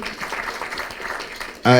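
Crowd applause at a Ngong Racecourse gathering of people living with disabilities, a steady wash of clapping for over a second before a voice cuts in loudly at the end.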